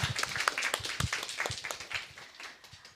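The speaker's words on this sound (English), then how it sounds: "a round of applause for everyone." A small group at a UX discovery workshop applauds, a brief burst of dense, close hand clapping that fades out over a few seconds.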